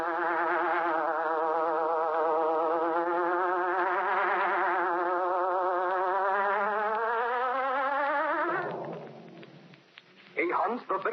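A droning hornet buzz opens a 1938–1942 Green Hornet radio show, loud and wavering up and down in pitch for several seconds before fading out as other sounds come in.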